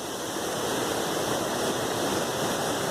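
Swollen Dismal Falls in Virginia roars in a dense, steady rush of heavy water, loud and close, with no pauses.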